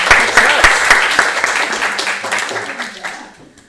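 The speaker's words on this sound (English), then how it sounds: "Enough clapping." Close, loud audience clapping during a game developer meetup presentation, dense at first and then gradually thinning and fading out.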